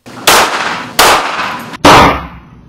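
AR-15 rifle fired at a bulletproof backpack: three loud, sharp blasts about a second apart, each with a decaying tail, the last one the strongest.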